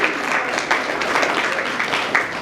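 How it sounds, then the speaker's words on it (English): A brief burst of audience clapping at a Family Wednesday gathering, a moderately dense patter of many hands that holds steady for a couple of seconds with no voices over it. "Give yourselves a clap on attendance."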